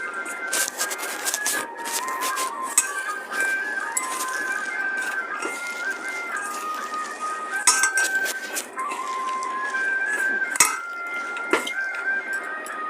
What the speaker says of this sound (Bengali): আমি এখানে একটু নুন দিয়ে ছটকে নিচ্ছি ভালো করে